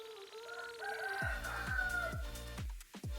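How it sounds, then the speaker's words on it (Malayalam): A rooster crows loudly and close by outside a sister's home in Kerala, giving one long, full crow that is followed by short clucking notes. No speech is heard over it. "സോറി ഫോർ ദ കോഴി നൈസ്"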